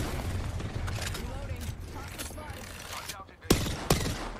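Gunfire in Apex Legends, scattered shots and rapid bursts with two sharp loud cracks near the end, heard under game voice lines and ambient noise.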